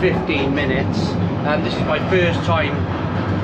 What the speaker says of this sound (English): Sorry for the noise. It's a really loud underground train, this one.